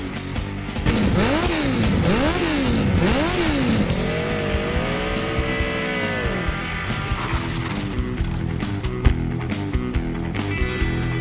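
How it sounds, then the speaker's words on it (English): A car engine revs hard in repeated rising and falling bursts, then holds a steady wavering drone before settling into a rougher running note, loud and close throughout with no talk. "Rev up your engines!"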